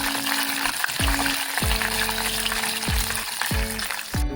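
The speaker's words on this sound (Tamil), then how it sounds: "கடுகு பொரியுது" Mustard seeds spluttering in hot oil for lemon rice, a steady close sizzle with loud low thumps and stirring knocks recurring about every half second to second; no voices.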